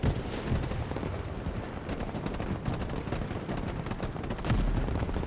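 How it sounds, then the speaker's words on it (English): Constant gunfire and heavy explosions from the Broken Arrow real-time strategy wargame fill a multiplayer battle: dense, loud, overlapping bursts and booms with no pauses. "There's just constant fire from the enemy."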